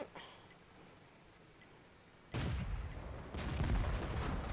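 Gunfire in World of Tanks from a battle involving an AMX 12t light tank: after a quiet stretch a sudden blast cuts in, followed by a second booming shot, both heavy and near, with rumbling echoes between.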